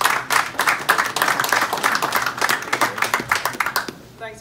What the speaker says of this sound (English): big round of applause for Hannah Rankin.